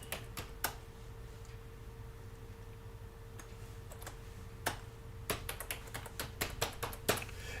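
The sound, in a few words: typing on a computer keyboard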